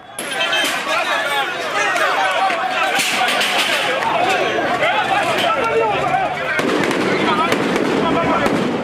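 Sharp cracking gunshots ring out during street unrest amid tear gas and burning tires, rapid bursts over a noisy crowd with shouting and chatter throughout.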